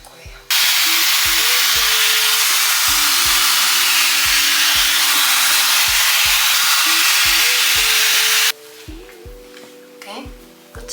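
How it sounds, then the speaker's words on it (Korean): A hair dryer fitted with a straightening nozzle blows a loud, steady roar close by for about eight seconds, then cuts off, leaving quieter handling noises and faint tones. "이렇게 다 말려줬으면 드라이 노즐을 바꿔서 스트레이트로 펴줄 거예요"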